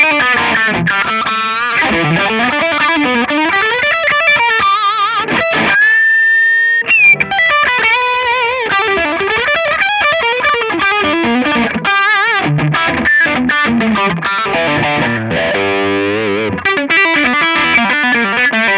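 An electric guitar runs through Effectrode tube pedals into an Orange amp, playing sustained, driven, harmonically rich notes and chords with a brief pause. The tone is loud and continuous, with no talking.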